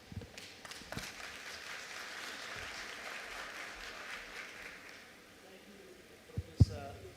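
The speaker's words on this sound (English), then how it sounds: "So big, hands of applause to the DG and his team." An audience at a ministerial announcement of national school exam results gives a round of applause, soft and somewhat distant, building briefly and fading, with a couple of sharp knocks near the end.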